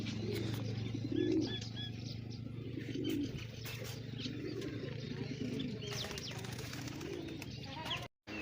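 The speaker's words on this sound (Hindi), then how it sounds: "ये खूबसूरत कबूतर हैं।" Pigeons kept in several coops in a village make soft, low cooing calls that recur in short bursts, with faint chirps and steady ambient noise behind them.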